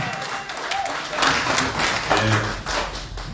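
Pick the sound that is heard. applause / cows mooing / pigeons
applause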